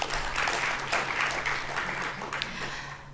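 Conference audience at the SANBio Annual Event 2019 claps steadily, a full round of applause of moderate loudness lasting a few seconds.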